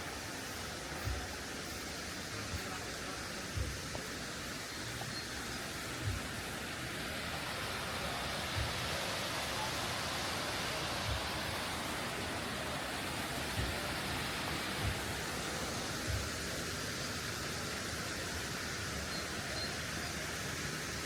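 Hotnitsa waterfall near Veliko Tarnovo, seen from the pool below, makes a steady, even roar of falling water that fills the whole stretch at a constant level, with faint knocks now and then.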